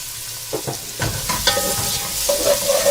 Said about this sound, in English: Of course, we're going to give this a quick stir.